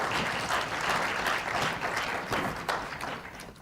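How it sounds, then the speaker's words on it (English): Conference delegates at the closing of an annual meeting of African parliamentary speakers give the President a loud, dense round of applause that carries on steadily throughout. "Another round of applause, please, for the President."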